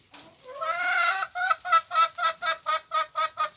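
Chickens in a coop in a village house garden cluck in a rapid series of close, loud calls, one drawn-out squawk opening into about nine evenly spaced clucks, with no talk.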